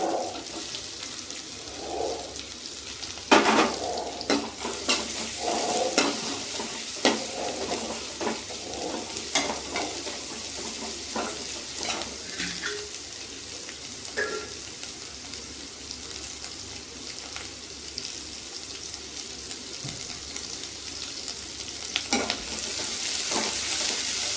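Chopped large onions sizzle and crackle steadily in a hot pan for a long stretch, with occasional scraping and stirring clatter, close and moderately loud.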